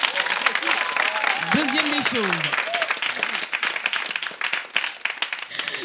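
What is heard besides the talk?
audience applause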